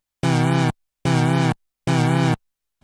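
Three identical synth notes from a single patch, with both parts carrying LFO phase modulation moving up and down in unison, each note about half a second long with a harmonically rich, gently wavering tone and short silent gaps between them.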